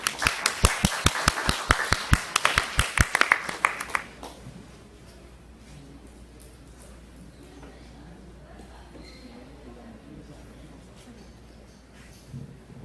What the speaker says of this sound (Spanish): pido un fuerte voto de aplauso